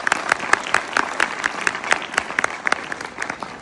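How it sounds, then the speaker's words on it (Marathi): Students in an audience at a motivational speech clap together in a brisk, rhythmic burst of fairly loud, close applause that eases slightly near the end. "टाळ्या वाजवायच्या बघा, एकदा करा."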